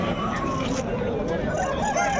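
Roosters at a crowded poultry market in Pileru let out calls over a dense background of market chatter and bustle.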